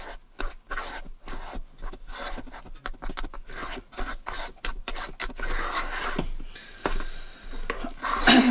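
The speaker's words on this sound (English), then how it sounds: "if it gets a little bitty, just give it a good old stir" Spoon scraping and knocking steadily around a pot of thick fudge mixture, a rhythmic close-up stirring with rapid repeated strokes.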